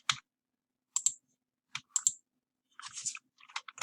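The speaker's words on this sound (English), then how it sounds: "I'm just going to type in what I want to get" Keys tapped on a computer keyboard while entering text for a Minecraft skin, sparse clicks in small clusters, close and crisp against silence, then a quicker run of strokes at the end.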